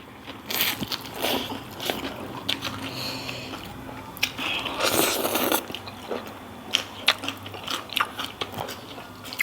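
Someone eats crunchy snail heads in a spicy papaya salad with pickled field crab, producing close, repeated biting and crunching sounds with wet chewing.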